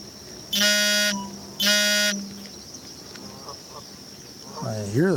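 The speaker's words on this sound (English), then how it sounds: "There goes the geese across the pond there taking off." Geese take off from a pond: two loud, drawn-out honking calls in quick succession, followed by quieter rustling and a short rising warble near the end, with a faint steady insect hum throughout.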